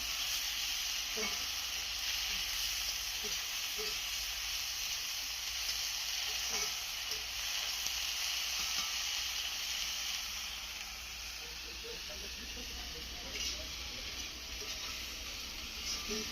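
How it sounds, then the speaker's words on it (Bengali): Steady sizzling of cauliflower, potatoes and peas frying in a pan, a continuous crackling hiss with occasional soft scrapes of stirring, no voices. "ভাজা ভাজা করবো।"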